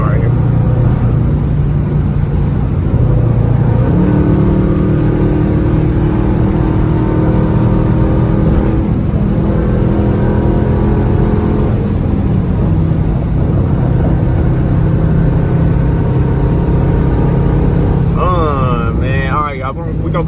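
A 2021 Dodge Durango R/T with a straight-pipe exhaust cruising at night, its loud engine drone steady and continuous throughout with shifting tones as it accelerates, heard from inside the cabin.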